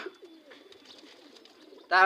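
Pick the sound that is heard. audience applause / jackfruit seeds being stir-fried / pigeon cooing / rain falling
pigeon cooing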